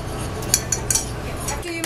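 Baking soda and baking powder stirred into a currant scone mix, a few light clinks and taps of a utensil against the bowl over a steady low background.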